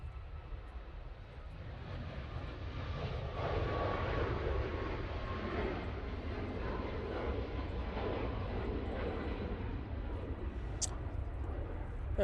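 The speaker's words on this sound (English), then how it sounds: "There goes the Malta Air 737 MAX 8." A Malta Air Boeing 737 MAX 8 passes at Manchester Airport, a faint, distant jet rumble that swells and holds steady as a low roar with a soft engine whine.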